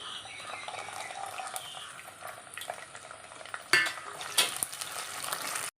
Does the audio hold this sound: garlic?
yes